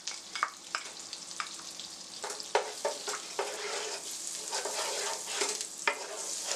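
Fresh thyme and diced garlic cook in melted unsalted butter, giving a soft sizzle broken by repeated sharp scrapes and clinks of stirring, fairly quiet and close, with no voices.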